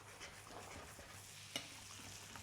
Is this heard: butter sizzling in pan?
yes